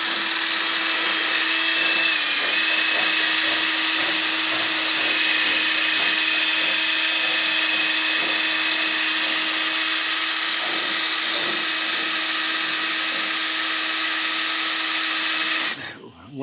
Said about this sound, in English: Once I get in far enough, the drill bit will go through.